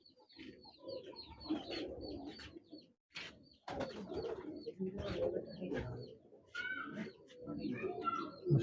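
Teddy Salara pigeons coo in soft repeated bursts close by, with chirpy calls over someone talking throughout.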